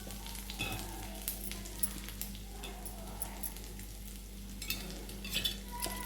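Spice tempering crackles in hot oil in a pan for an amaranth-leaf and urad lentil vadiyalu stir-fry, a soft steady sizzle dotted with small pops and faint utensil clicks.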